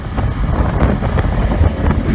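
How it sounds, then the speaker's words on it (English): A 2000 Mach One 314 Combo speedboat runs hard at about 55 mph on rough water, its engine a loud, steady roar mixed with wind buffeting and hull slap, with no talk. "It's an awesome boat, John."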